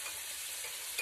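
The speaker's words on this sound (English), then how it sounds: "So I'm just stirring to melt the better than bouillon down." A spoon stirs Better Than Bouillon into boiling water in a Pyrex measuring cup, a soft continuous swirling hiss with a faint scrape near the end.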